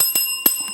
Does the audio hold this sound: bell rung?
yes